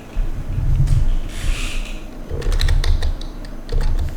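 Rapid clicking of keys as text is typed on a computer keyboard, several quick bursts of keystrokes with brief pauses between, fairly close and clear with no talking.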